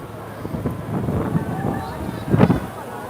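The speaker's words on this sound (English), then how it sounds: "And it's windy." Gusty wind buffets the microphone in low rumbling surges, swelling strongly near the end, with indistinct voices underneath.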